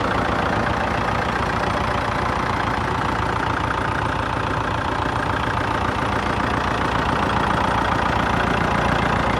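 A used Kubota L4508DI tractor's diesel engine idles steadily and loudly up close, with a dense, continuous throb throughout and no talking over it.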